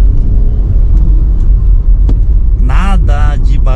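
A Honda Accord V6 idles quietly with a low, steady engine rumble close by, while someone speaks briefly over it near the end.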